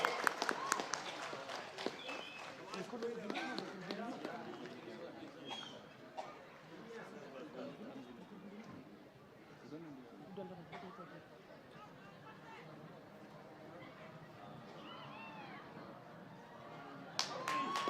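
At a large outdoor public meeting at Gorkha Pathshala Field in Shillong, a crowd claps in a quick, dense burst at the start, then voices and chatter take over before another short round of clapping near the end, all fairly distant.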